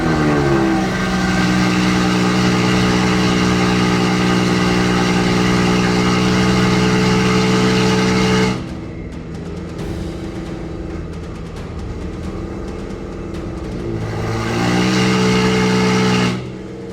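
A BMW 340i engine revs hard in a sustained, loud climbing drone that cuts off abruptly, falls to a rougher lower rumble for several seconds, then rises into another strong rev near the end, heard up close without speech.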